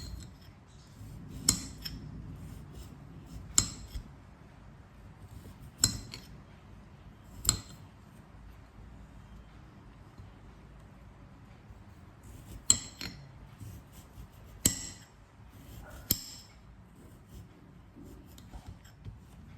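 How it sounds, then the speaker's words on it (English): A knife chopping garlic on a board: sparse, sharp, light taps spaced a second or two apart, close and fairly quiet over a faint background hum. "Chop the garlic."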